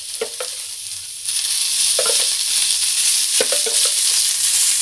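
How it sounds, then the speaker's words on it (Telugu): Sliced onions frying in hot oil for a Telugu gongura peanut chutney, a steady sizzle with a few sharp stirring scrapes, close and fairly loud, no talking. "ఆనియన్ కూడా వేయించుకున్నాం"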